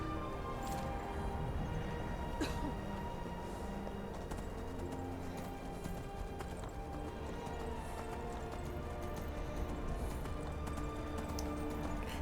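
Steady hoofbeats of a horse at a gallop in the video game Skyrim, a quick rhythmic clopping over a constant background hum, with no one talking.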